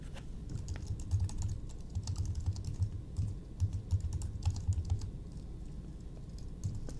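Quick, uneven key presses on a computer keyboard as text is typed into a Photoshop flyer, soft clicks arriving in bursts with brief pauses, fairly quiet and close, no talking.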